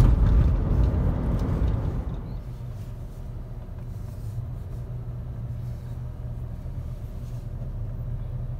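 A Ford Escape XLT with a 3-liter V6 accelerates at about three-quarter throttle on a test drive, a loud in-cabin engine roar that drops after two seconds to a steady low cruising rumble.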